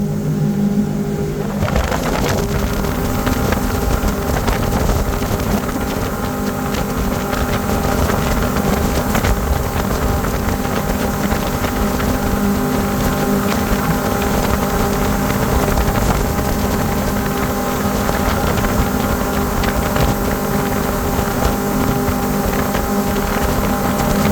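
Glastron GTD 180 boat with a 150 HP Mercury outboard running at wide open throttle around 6,000 RPM, a loud steady engine roar mixed with wind and water rush throughout, no voices.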